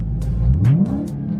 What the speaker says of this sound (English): I'm gonna rev the engine a little bit for y'all